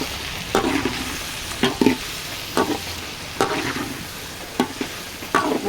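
A spoon stirs Telangana-style chicken tomato curry in a pan, with regular scraping strokes roughly once a second over a soft, steady sizzle, close and clear with no talk.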